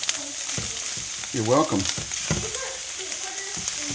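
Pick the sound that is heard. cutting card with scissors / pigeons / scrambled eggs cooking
scrambled eggs cooking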